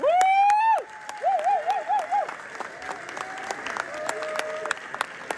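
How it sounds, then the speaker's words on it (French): Applause from a large crowd at a Tidjane Thiam event at Le Bourget, a continuous wash of clapping rising after a brief sung or called-out phrase, with voices calling over it. "Tonnerre d'applaudissements, s'il vous plaît."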